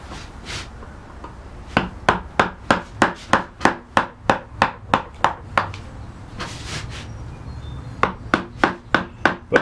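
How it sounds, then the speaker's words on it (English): Wood carving with a 3/4 inch gouge on a wooden box front: a steady run of sharp, evenly spaced tapping strikes, close and distinct, with a brief pause in the middle before the tapping resumes. "So that's a 3/4 inch wide gouge."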